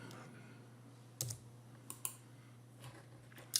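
A few scattered keystrokes on a computer keyboard, faint, sharp clicks separated by pauses over a quiet background, with no talking.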